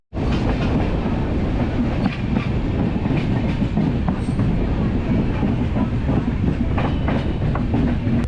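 The Konkan Kanya Express runs on the Konkan line during the monsoon, giving a loud, close, continuous rumble with a rhythmic clickety-clack of wheels on rails throughout.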